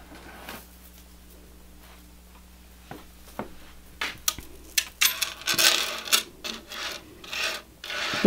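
Metal chain necklaces laid out one by one on a surface, quiet at first, then clinking, jingling and sliding links in close, uneven bursts.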